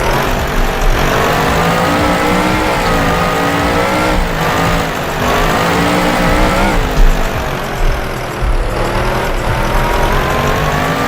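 A classic GT sports car drifts uphill on a vintage street track around Napoli, its engine droning loud and steady with rising revs and tire noise throughout.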